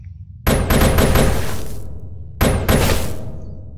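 Golden eagle weapon firing in the People Playground video game: two loud volleys of rapid bangs with bright whistling streaks, the first lasting over a second and fading away, the second following after a short pause, with no voices.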